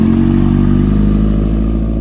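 A Kawasaki Ninja H2 heavy motorcycle engine runs loud and steady and close up, its low harmonic drone holding through the moment with a slight rising rev and some mechanical clatter, and no voices.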